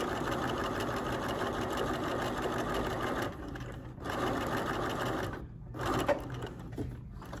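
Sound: sewing machine basting a waistband seam

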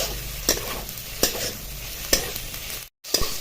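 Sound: sautéing dry spices in a pan

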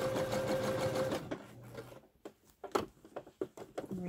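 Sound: sewing machine stitching elastic onto leggings seam

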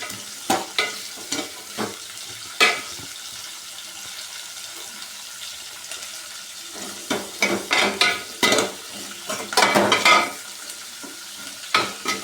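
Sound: onions frying in a pan for brinjal dal sambar

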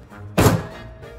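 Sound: smacking clay to stick it

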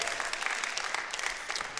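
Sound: congregation clapping hands in church

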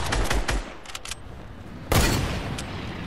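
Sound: gunshot from a far trick shot in a video game

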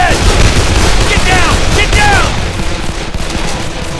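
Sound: gunfire in the video game Call of Juarez: The Cartel

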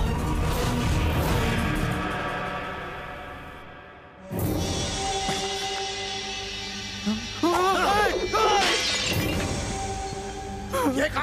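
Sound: glass shattering in a movie scene

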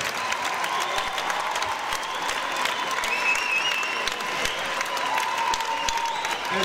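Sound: audience applause at gala

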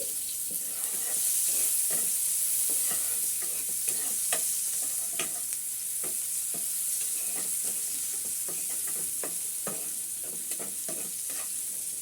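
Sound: onion frying lightly in a pan

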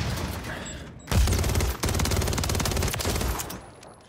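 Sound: gunfire in Call of Duty MW3 video game

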